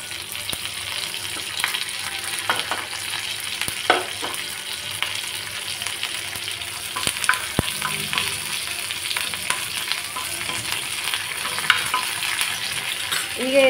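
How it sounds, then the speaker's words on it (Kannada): Mustard seeds and curry leaves sizzle and crackle in hot oil in a pan, a steady close frying hiss with scattered pops and occasional stirring, no voices. "1/4 ಸ್ಪೂನಷ್ಟು ಸಾಸಿವೆ ಸ್ವಲ್ಪ ಸಿಡಿಲಿ"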